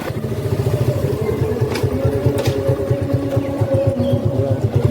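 Motorcycle engine running close by in a steady rhythmic putter while the bike turns around, with a faint background voice.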